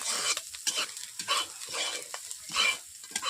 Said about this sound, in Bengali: আমি অল্প করে তেল দিয়ে হালকা আঁচে আবারও নেড়ে নেড়ে ভেজে নিচ্ছি